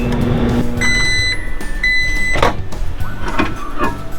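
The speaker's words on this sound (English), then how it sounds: "Put it back in the microwave for 30 seconds." A microwave oven heating chocolate runs briefly, then beeps a few times, followed by clunks and rattles like its door opening and a dish being handled.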